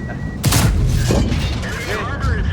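Tank cannon fire in World of Tanks, a loud booming shot bursting in around half a second and rumbling on, with game sounds and voice chat mixed in.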